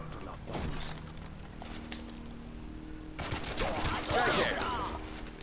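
Gunfire in the video game Not A Hero, bursts of rapid shots and thuds at moderate loudness, with game voices and effects mixed in.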